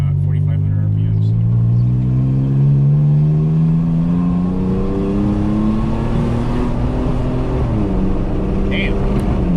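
A Toyota Tacoma engine revs up steadily toward about 4,500 RPM, its rising harmonic drone loud and close throughout, easing slightly near the end, with faint voices underneath.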